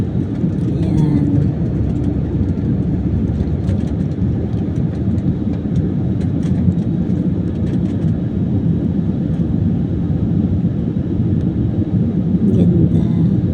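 A steady, loud engine roar and rumble fills an airplane cabin during landing, continuous throughout with faint clicks and rattles on top and a brief voice near the start.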